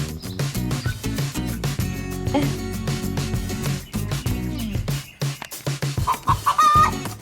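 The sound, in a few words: chickens clucking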